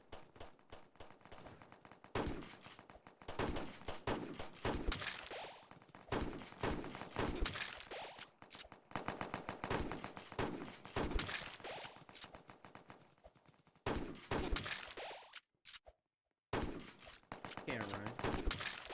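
Gun in a shooting video game firing, not a shotgun, in rapid bursts of sharp cracks through most of the stretch, with a brief silent gap near the end and dense game sound around the shots.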